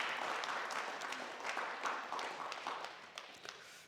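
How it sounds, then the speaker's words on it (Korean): A church congregation at a Sunday service applauding, moderate clapping from many hands, somewhat distant, fading gradually. "우리 박수로 예, 축복하겠습니다"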